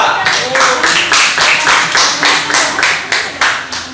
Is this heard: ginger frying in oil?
no